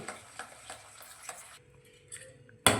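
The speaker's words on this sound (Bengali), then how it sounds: "এখানে আমরা 10 টাকার গুঁড়ো দুধটা দুধ এবং ডিমের সঙ্গে খুব ভালোভাবে মিশিয়ে নিচ্ছি।" Powdered milk is mixed into milk and eggs for caramel pudding: a run of light, rhythmic ticking strokes of a utensil against a bowl, then quieter stirring, ending with a sudden loud clatter.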